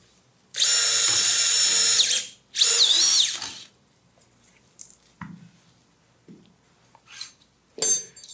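A surgical power drill driving a static screw for a tibial nail in an operating room, heard as two loud high-pitched whirring bursts, the second rising and falling in pitch, followed by scattered soft clicks and handling noises.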